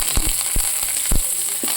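Onions frying in coconut oil for a traditional chicken curry, with curry leaves added: a loud, steady sizzle close by, broken by several sharp clacks of stirring in the pan, with no one talking.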